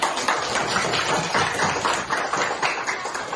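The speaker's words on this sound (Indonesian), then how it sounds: "Mana tepuk tangan ini?" A classroom of children clapping hands together in a steady, dense patter that fills the whole stretch, loud and close.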